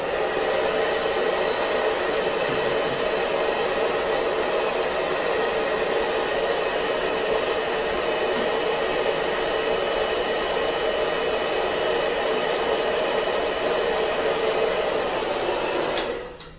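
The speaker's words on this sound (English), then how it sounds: "So the heat on the blow dryer does work." Constant loud whoosh of a blow dryer heating adhesive on an appliance, running steadily at close range, unbroken until it cuts off at the very end.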